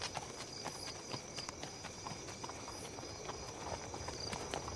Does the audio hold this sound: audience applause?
no